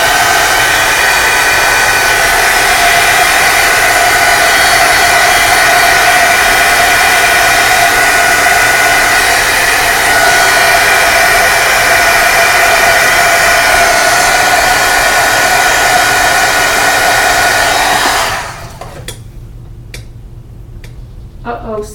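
A handheld dryer blows steadily and loudly up close to dry a piece of artwork, a continuous rushing whoosh that runs for most of the clip before cutting off, leaving quiet handling sounds.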